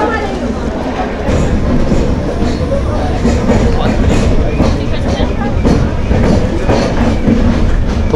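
The Dehradun Janshatabdi express runs on the rails with a loud, continuous rumble and a rhythmic clickety-clack of wheels over the track joints, heard from on board the moving train.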